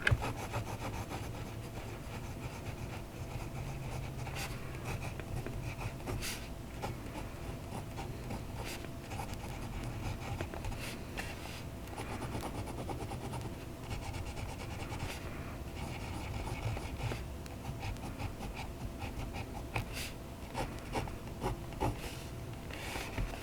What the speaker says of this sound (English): Let's see how that extra fine nib writes.